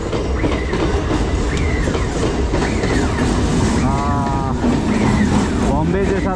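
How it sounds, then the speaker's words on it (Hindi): A local train rumbles past nearby with a loud, continuous rolling clatter, and high squeals and tonal whistles rise over the wheel noise. "crossing local train"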